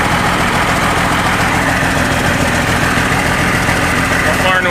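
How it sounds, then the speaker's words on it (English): A John Deere 4850 tractor runs with its newly installed hydraulic pump taking in oil, giving a loud, close, continuous engine drone with a rough, vibrating idle and no break. "I hear oil going in the pump"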